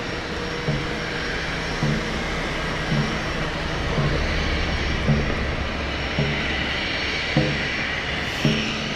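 A NetJets Bombardier Challenger 350 business jet at London City airport gives a steady, continuous engine whine and rumble at moderate distance, with faint periodic thumps in the background and no talk.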